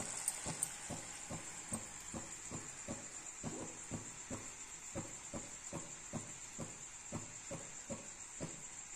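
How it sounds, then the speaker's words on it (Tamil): Sugar syrup for ghee Mysore pak boils in a pan with soft, regular bubbling pops over a constant faint high hiss, quiet and steady. "நல்லா கொதிக்க ஆரம்பிச்சிருச்சு."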